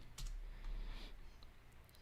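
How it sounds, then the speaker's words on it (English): Fingers type pgadmin on a computer keyboard in a short run of close clicking keystrokes over a quiet background. "type pgadmin"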